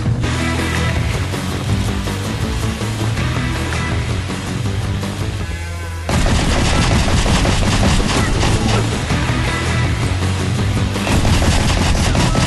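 Gunfire in the video game Rocket Birds, rapid automatic bursts over loud game music, a dense continuous barrage growing heavier halfway through.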